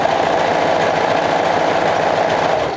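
A sewing machine stitches around a pocket, its motor running as a steady, close, unbroken hum with no pauses and no voices.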